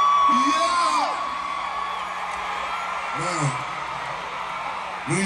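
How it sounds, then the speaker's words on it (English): A concert crowd at Citi Field in New York City cheering, whooping and yelling, sustained and loud, with a voice over a microphone calling out above the roar. "You are kindly encouraged to scream, yell, and shout."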